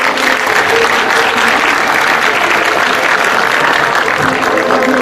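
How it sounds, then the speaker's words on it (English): An audience applauds at the opening ceremony of an international science fair, a loud, continuous roar of many clapping hands with no break. "So once again, a round of applause."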